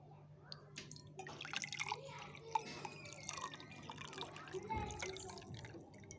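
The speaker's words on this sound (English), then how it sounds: "First, we will fill the container with the water." Water trickles and splashes faintly into a container, a soft, quiet pour with light dripping sounds.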